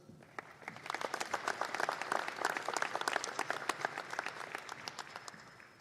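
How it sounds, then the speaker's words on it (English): An audience at a US Naval Academy prizes and awards ceremony applauds steadily for several seconds, the clapping swelling to a full, dense round before easing off slightly at the end. "Please join in a round of applause for our distinguished midshipmen graduates."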